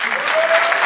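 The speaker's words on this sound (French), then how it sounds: "Applaudissez les Français pour voir ce soir, qui sont là." French comedy-show crowd applauding, a brief dense burst of many hands clapping together at steady loudness, cut short after under a second.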